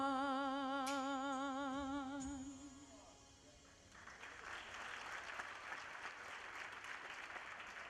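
At an African heritage graduation ceremony in a theatre, a sung note fades out and the audience answers with applause, rising to a broad, steady wash of clapping that carries on to the end.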